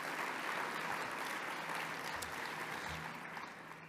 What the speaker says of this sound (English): Give our co-host sponsors a big applause